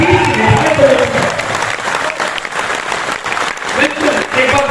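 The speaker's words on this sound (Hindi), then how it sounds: "एक बार जोरदार ये तालियां" An auditorium audience in Bhilwara breaks into loud, sustained applause, a dense wash of clapping that holds steady from start to finish with no clear pauses.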